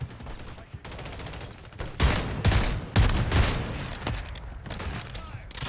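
Dual shotguns fire in a video game, several heavy blasts in quick bursts over a few seconds with booming low impacts, loud and close, interleaved with other gunfire.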